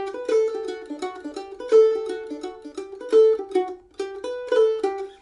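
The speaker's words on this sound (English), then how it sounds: "Instead of a pull off, you can put in a grace note." Mandolin repeating a Fisher's Hornpipe phrase from an arrangement, using a grace note rather than a pull-off; crisp plucked notes in an even, lilting run, played several times close and alone.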